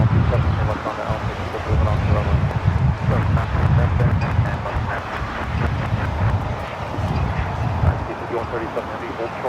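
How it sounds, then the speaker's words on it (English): A United Boeing Dreamliner jet arrives on runway 24R at LAX, its broad engine roar steady and fairly loud throughout, mixed with wind rush. "We have a United Dreamliner arriving on the north side."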